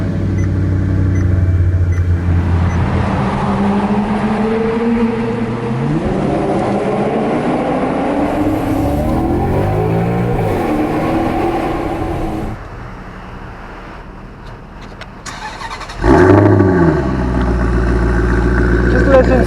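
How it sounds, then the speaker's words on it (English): A Maserati engine cold-starts and settles into a loud, rough idle, its pitch sweeping and revving in the middle before dropping away, then a second loud engine surge near the end, with a person talking over it. "do a cold startup."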